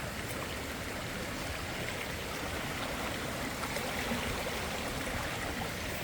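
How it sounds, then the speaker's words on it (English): Steady broadband rush of storm water pouring out of a flooded pond after a heavy storm, a continuous close flowing wash with no pauses and no voices. "This is where all the water meets up. And then it heads down that way."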